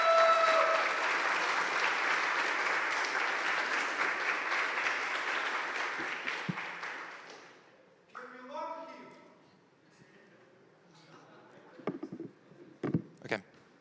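Audience applause at a startup demo day fills the first seven seconds, dense and steady, then fades out into a voice speaking, with a few sharp knocks near the end.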